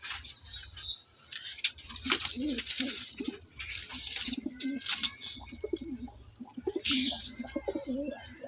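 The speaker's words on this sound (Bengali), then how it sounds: "আমার যে পায়রা আছে সবই আন্ধ্রা পায়রা আছে" Andhra pigeons coo close by in a coop in low, throaty bursts, mixed with a few higher chirps and some rustling.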